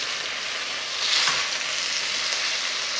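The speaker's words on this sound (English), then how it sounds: "So let's try to stir this a little bit, because I don't want those onions and garlic under there to just burn." Onions and garlic fry under greens in a pan while being stirred, a steady close sizzle with a brief louder burst of hissing partway through, no talk.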